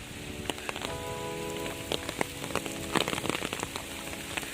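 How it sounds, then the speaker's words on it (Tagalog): Steady rain pours down, pattering and drumming densely on a surface nearby, with sharper drops crackling through the constant hiss. "Ayan, lumakas ng ulan guys."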